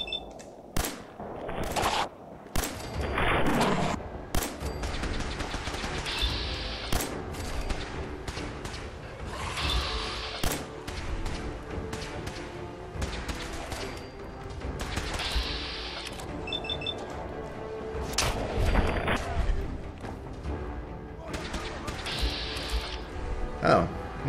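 Gunfire in Fallout 4, with repeated sharp shots and bursts scattered over a busy mechanical game soundscape, some close and loud, others fainter, while a person talks intermittently.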